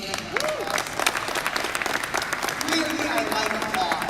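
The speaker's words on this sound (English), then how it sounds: "Let's give them another applause." A conference audience gives sustained applause for its partners, steady even clapping throughout with a couple of whistles and faint voices mixed in.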